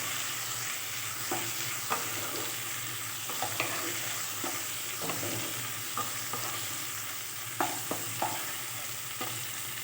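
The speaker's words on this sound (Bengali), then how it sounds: "টমেটো কুচিটাও দিয়ে দিয়েছি, দিয়ে ভালো করে নেড়ে চেড়ে কষিয়ে নেব" Onion and chopped tomato sautéing in a pan, a steady broad sizzle with soft scraping strokes of a spatula stirring at irregular intervals, close and alone with no voices.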